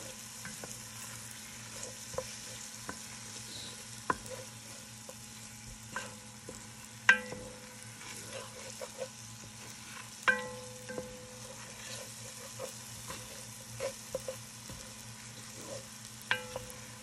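Beef frying in a pan for a Moroccan zucchini tagine, a soft steady sizzle broken by sharp scrapes and clinks as a utensil stirs the meat at irregular intervals, with no talking.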